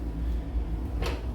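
A door in a resort villa at Disney's Riviera Resort is opened, giving one brief clunk and sweep of movement over steady room hum.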